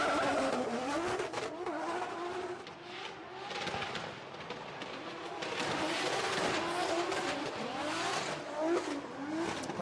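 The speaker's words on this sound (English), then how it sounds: "we're going to see Jason Benet now fire in this 2JZ powered GT86" A 2JZ-powered Toyota GT86 drift car runs at full throttle in qualifying at a Drift Masters round in Finland, the engine wailing and rising and falling while the tires squeal, loud and sustained with brief dips.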